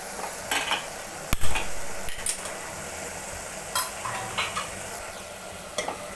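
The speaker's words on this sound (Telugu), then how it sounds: "మధ్య మధ్యలో ఇలా కలుపుకుంటూ ఉండాలి" Tomato and tamarind mixture being stirred in a pan, with repeated scraping strokes and soft sizzling at a steady, unhurried pace, close by and with no voices.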